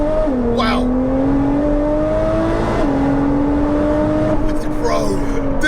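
An 820bhp hybrid turbo Nissan GTR pulls hard in second gear, a loud droning engine note rising in pitch with a brief dip at a shift, heard from inside over wind and road noise with voices.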